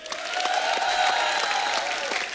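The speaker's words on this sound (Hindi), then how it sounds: "जोरदार तालियां पाजी के लिए।" A studio audience applauds during a comedy talk show, with steady, dense clapping from many people, and a tonal musical line or sustained voice runs underneath the continuous applause.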